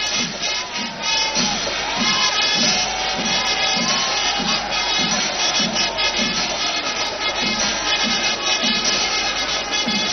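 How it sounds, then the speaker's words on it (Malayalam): A large festival crowd roars at Thrissur Pooram in Kerala, a loud, sustained wash of cheering over a steady, evenly spaced percussive thump that pulses throughout. "ആർപ്പുവിളികൾ"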